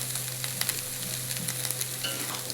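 Potatoes fry in mustard oil in a wok, a soft steady sizzle with scattered crackles and pops, fairly quiet and close, with no talking.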